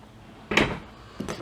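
An Infiniti M45/M35 car door swung shut with its check rod disconnected, giving a single muffled thump up close followed by a softer secondary knock a moment later.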